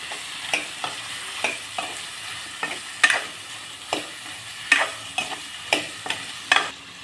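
A spoon stirs and mixes a curry of sabsige greens or brinjal with coriander powder in a pan, giving repeated soft scraping strokes at an irregular rhythm over a faint sizzle, with no talk.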